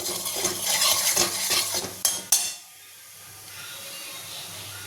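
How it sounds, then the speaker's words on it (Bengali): Oil hisses and sizzles loudly as whole cumin seeds hit hot oil left from frying fish in a wok, with a few metallic clinks and scrapes, then the sizzle settles into a quieter steady crackle. "কড়ার মাছ ভাজার তেলের মধ্যে আমি একটু গোটা জিরে ফোড়ন দিয়ে দিলাম"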